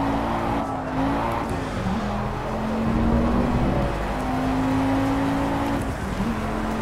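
Race car engine in a racing game, held at steady revs with wavering pitch shifts as it brakes and turns through a chicane, continuous and fairly loud with no talk.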